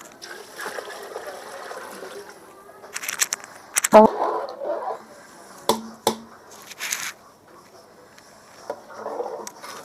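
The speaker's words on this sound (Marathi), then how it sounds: "राहिलेले सूप पण मी त्यामध्ये ओतून घेणार आहे." Leftover soup is poured into fish-head curry masala cooking over a wood-fired stove, a batch for fifty people. Intermittent liquid splashes and dribbles come close by, mixed with clattering and a little talking.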